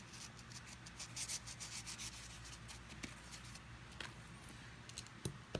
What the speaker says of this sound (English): A little rust on the stop pin, so I'll go ahead and try and clear that off.